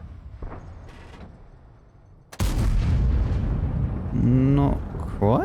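In the World of Tanks video game, a tank gun fires a single loud, sudden boom after a quiet stretch, followed by a sustained rumble with a voice speaking over it.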